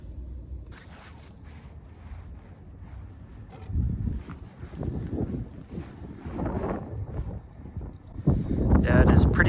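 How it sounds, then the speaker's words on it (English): Wind buffets the microphone outdoors on a cold winter evening, rumbling low and gusting louder toward the end, with a voice talking over it. "Yeah, it is pretty windy today"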